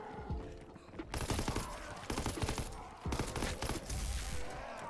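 Weapon gunfire in a World War II video game: rapid bursts of shots crackle densely, with a brief lull before each of two long volleys, fairly loud against game ambience.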